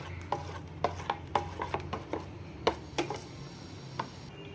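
Besan chilla batter with spices is mixed in a bowl, giving a quiet series of scraping, tapping strokes at a loose, uneven rhythm, close and soft.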